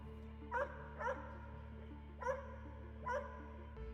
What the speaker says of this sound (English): I can hear barking, maybe dogs, wolves